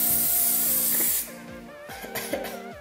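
A spray cleaner bottle hisses as it is sprayed onto permanent marker on wood, one loud burst of spray lasting about a second, followed by quieter handling noises and faint background tones.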